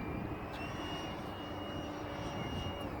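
A Durafly DH 100 Vampire MK 6 electric ducted-fan RC jet flies on a very windy day, with a steady whine and rushing drone that holds at moderate distance while it yaws, under wind noise.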